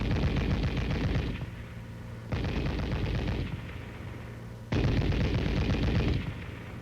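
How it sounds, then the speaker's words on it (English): An M73 tank machine gun fires three loud, close, sustained bursts of about two seconds each, separated by short pauses filled with a ringing, rumbling tail. "The M73 can be fired electrically from the gunner's position or the tank commander's position."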